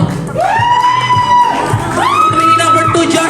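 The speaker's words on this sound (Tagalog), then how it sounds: "Palakasan ng paghiyaw at ng palakpak." A party audience at an anniversary celebration shouts and whoops for a nominee, with several voices rising in long, loud cheering calls that swell twice across a few seconds.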